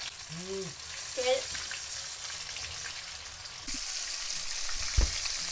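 Chicken fries in oil with a soft, continuous sizzle and crackle. Brief voices and small knocks sound over it, and the sizzle grows brighter toward the end.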